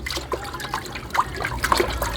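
Water swirled and stirred in a container while mixing in a scooped powder for watering orchids, with close, soft trickling and sloshing plus a few brief splashy accents.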